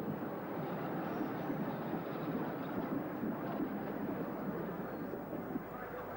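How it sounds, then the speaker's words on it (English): A steam locomotive hauling two Great Western coaches at a parade gives a steady, even rumble with no clear chuffs, heard at a moderate distance on old, muffled recording. "now coming along is the Sylvan cast, hauling 2 Great Western coaches"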